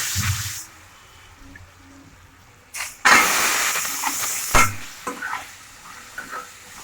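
Cashews hit hot oil with a loud, sudden sizzle that starts abruptly and holds as a broad hiss, rising and falling as the nuts are stirred in while a wet cashew curry is cooked.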